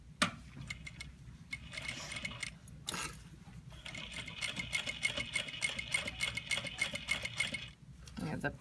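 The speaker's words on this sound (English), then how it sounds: "So I'm edge stitching just over top of that waist seam." A domestic sewing machine edge stitching along a pleated skirt's waist seam, its steady mechanical whir running continuously for several seconds between brief pauses, close and moderately loud with a talking voice over it.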